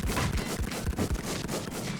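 Rapid bursts of gunfire from the video game Infestation Fantasy crackle in quick succession, a dense close volley of shots repeating throughout with no clear pauses.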